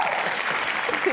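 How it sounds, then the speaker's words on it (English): A short burst of applause, a dense, even patter of many hands clapping, fairly faint and steady for about a second. "Can we get a clapping sound?"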